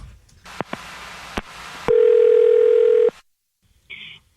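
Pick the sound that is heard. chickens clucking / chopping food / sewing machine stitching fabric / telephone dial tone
telephone dial tone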